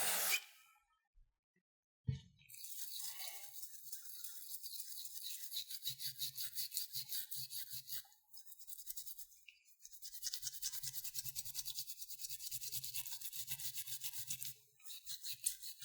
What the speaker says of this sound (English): Just find an old toothbrush that you don't want anymore.